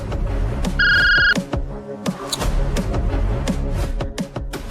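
A telephone rings in a domestic drama scene, a bright electronic ring repeating over background music, with short tonal bursts.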